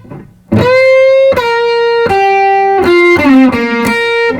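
Electric guitar plays a short descending blues lick from a guitar solo, picked notes stepping downward with a bend near the end, close, loud and alone.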